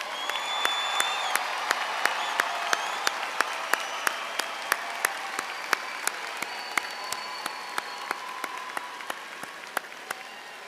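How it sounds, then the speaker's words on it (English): Commencement audience at a university spring undergraduate ceremony applauds the graduates: a broad, sustained wash of clapping from a large crowd, with sharp individual claps standing out near the microphone. "One more round of applause for the graduates"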